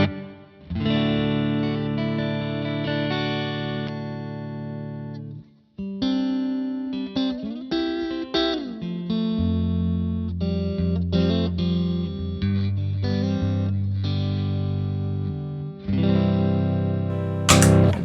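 Clean electric guitar chords and single notes ring out with a light reverb tail, played alone with brief pauses between phrases.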